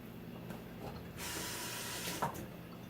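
Water splashed onto a warm car engine part near the thermostat gives a soft, faint hiss of spray lasting about a second, with quiet mechanical background before and after.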